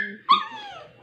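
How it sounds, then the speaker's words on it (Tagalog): A house dog gives one sharp, close bark that trails into a rising whimper, heard on its own. "Ito yung pangatlo namin aso dito sa bahay."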